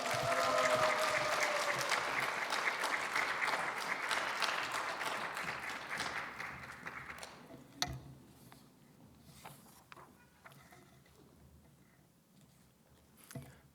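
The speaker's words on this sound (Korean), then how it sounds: "우리 박수로 한번 환영합니다" A church congregation claps at a Friday evening Korean worship service to welcome a pastor to the pulpit. Broad, moderate applause holds for about seven seconds, then thins into scattered claps and quiet room noise.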